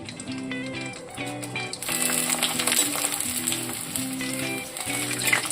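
Carrot and beetroot vadiyalu frying in hot oil, a steady close crackling sizzle with bubbling that grows louder and busier midway, with no talking.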